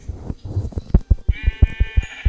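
A sheep in Minecraft PE bleats in a rapid, stuttering run of short pulses that ends in a sustained nasal cry. The sound is loud and close.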